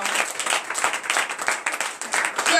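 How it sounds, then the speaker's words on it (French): Congregation at a morning prayer service in Benin applauding and cheering, a loud, dense, continuous wash of clapping and voices lasting a few seconds. "Donnez de vives acclamations à notre Seigneur."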